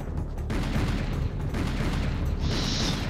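Sustained video-game gunfire from a pistol with unlimited ammo, a dense, loud, continuous barrage of shots and blasts filling the whole stretch without pause.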